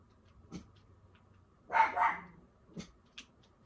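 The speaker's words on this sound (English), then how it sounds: "my dog's barking, probably another dog walking by" A pet dog barks indoors, a couple of short distant woofs followed by a louder burst of two barks and a few more scattered ones, heard alone with no talking.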